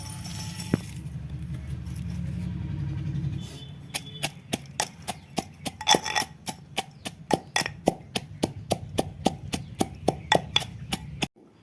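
Onion-and-tomato masala for a Kathiyawadi whole-onion curry being pounded in a mortar, a steady run of sharp rhythmic thuds about twice per second, close and clear, after a few seconds of low background hum, with no speech.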